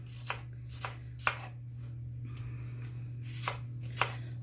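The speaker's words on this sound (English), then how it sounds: "just going to chop that up" Knife chopping through a large apple on a board for a weight-loss day meal, a handful of sharp, separate cuts spaced irregularly, close and clear over a steady low hum, with no talking.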